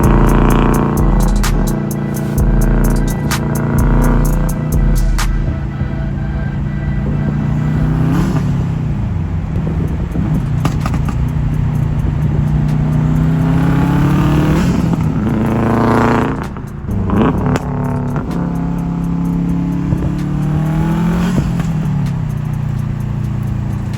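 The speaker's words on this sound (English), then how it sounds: "we got a little intake noise." A Subaru WRX STI with a bypass valve revs and accelerates, its intake and turbo whooshing and whistling over engine rumble, with rises and falls and sharp spikes, loud and close throughout.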